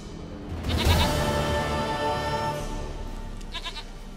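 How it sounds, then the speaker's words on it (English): A goat in the video game The Witcher 3: Wild Hunt lets out a long wavering bleat, loud and close, trailing off into a quieter second call. "Goat of mine, dearest, sweetest goat."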